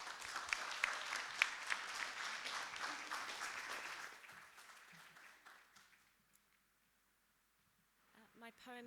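Audience applauding a poet at the Asia House Poetry Slam, dense steady clapping that fades away over several seconds into near silence before a voice begins speaking at the end.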